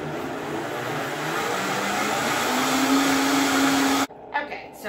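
A Vitamix blender whirs through keto caramel macchiato ice cream mix, its motor pitch climbing steadily as the speed rises, then cutting off abruptly near the end.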